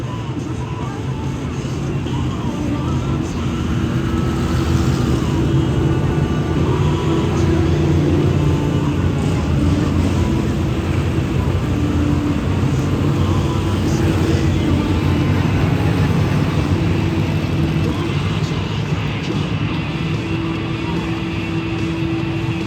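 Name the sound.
hobby stock race cars on parade lap at Adams County Speedway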